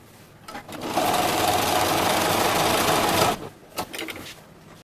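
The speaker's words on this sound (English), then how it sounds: "Now I'm going to sew this seam with a zigzag or a serger to combine those 2 pieces." A sewing machine or serger stitching a seam joining two fabric pieces of a ghost mermaid costume skirt, a close, steady whirring run of about two and a half seconds framed by brief starts and stops.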